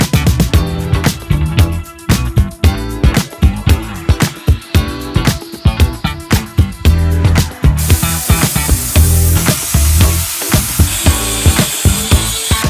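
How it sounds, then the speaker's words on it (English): Welding holes shut in metal side panels for a boat on a Cherokee, loud, close crackling bursts in quick stops and starts, with a harsher continuous hiss toward the end. "I think I'm gonna weld up these holes and then try cutting these holes again"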